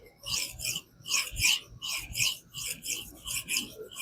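A knife blade of 154CM steel is drawn across a THLEITE whetstone in quick, repeated strokes, giving soft rhythmic swishing scrapes close up and fairly quiet, with no talking.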